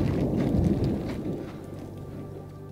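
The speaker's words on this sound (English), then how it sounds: "there's a bit of thunder" Thunder rolls as a low rumble on the slopes of Mount Elbrus, strongest at first and then gradually easing off over a few seconds, with no voices.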